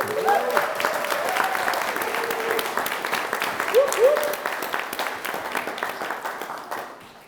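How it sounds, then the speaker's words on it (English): Wedding guests applaud the bride during a best man's speech, a dense sustained round of clapping through the whole stretch with a voice talking over it and cheers rising, fading at the end. "Can we please get a round of applause for Jade?"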